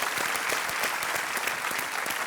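A studio audience on a television quiz show applauds loudly and continuously, a dense, even wash of clapping with no pauses.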